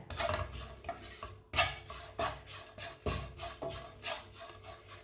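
Hot spices and oil being stirred in a pan with the stove turned off, a utensil scraping and clinking against the metal in irregular strokes, close and fairly quiet with no talk.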